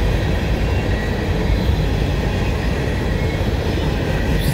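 Single locomotive hauling a long train on a Canadian mainline used by VIA between Montreal and Quebec, a loud, continuous broadband rumble and rattle of wheels and cars rolling past up close without letup.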